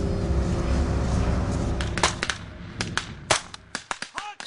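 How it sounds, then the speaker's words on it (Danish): Gunshots during a military combat search and rescue exercise, a rapid series of sharp cracks, some overlapping, that follows a loud rumbling noise and grows sparser toward the end. "Skuden er rettet mod Thomas og Tobias"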